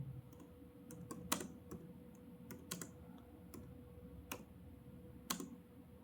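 Someone types a program title on a computer keyboard in Delta PLC WPLSoft software, with quiet, irregular key clicks in short bursts heard close and alone against a faint background hum.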